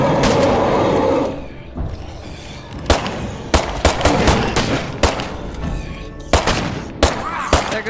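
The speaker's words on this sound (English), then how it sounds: "There goes my last shot." Gunfire from the final magazine in State of Decay 2: loud sustained noise at first, then a series of sharp single shots spaced about a second apart, each cracking out alone with brief decays.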